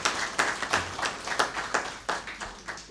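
Audience clapping at a Punjabi language event, a modest round of irregular claps with rhythmic peaks, fairly quiet and slightly distant.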